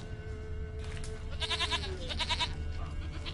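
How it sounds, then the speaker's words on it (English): A goat bleats in The Witcher 3, a few wavering, nasal calls in the middle of the clip, set over a steady game ambience with a low hum and no speech. "Here, goat."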